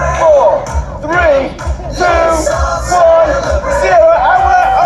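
Crowd cheering and whooping at the opening of Legoland Windsor, loud and close, with yells and excited voices surging over a rush of people.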